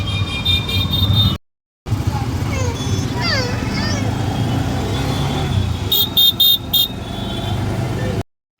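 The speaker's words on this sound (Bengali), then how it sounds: "কত টোটো দেখ, কত গাড়ি যাচ্ছে দেখ।" Busy street traffic with e-rickshaws (totos) and cars passing nearby, horns honking repeatedly, as a child and an adult talk over the engine noise; the sound cuts out briefly near the start and again at the end.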